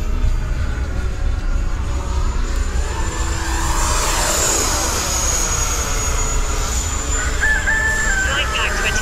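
A battery-powered RC Viper jet model plane flies overhead on fresh 21-volt packs, its high ducted-fan whine sweeping steadily past at moderate distance, continuous throughout with outdoor background noise.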